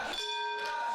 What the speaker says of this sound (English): Bell sounds, and our title match is underway.